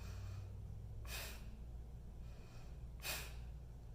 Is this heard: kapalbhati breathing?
yes